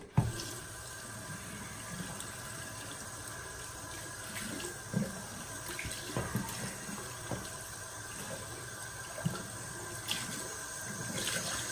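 Running water rinses out a soap tub, a steady faucet-like flow with scattered splashes and clunks, fairly quiet and close, with no talking.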